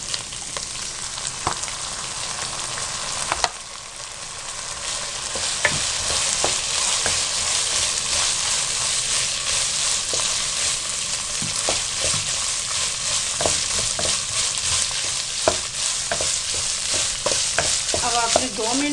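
Chicken fries in soy and chili sauce for a macaroni dish, a loud unbroken sizzle punctuated by frequent scraping and clinking stirring strokes, close by and with no talk.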